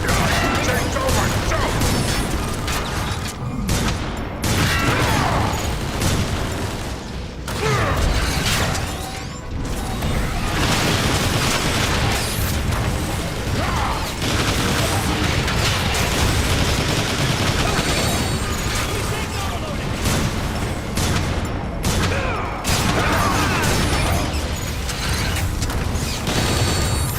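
Dense, continuous gunfire and mechanical clatter in the Transformers War of Cybertron video game, loud and sustained for the whole stretch, with battle effects layered throughout and occasional voices mixed in.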